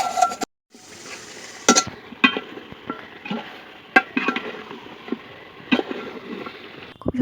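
Food being stirred and fried in a pan in a village kitchen, with sharp scrapes and clinks of a spatula against the metal at irregular intervals over a soft, low sizzle.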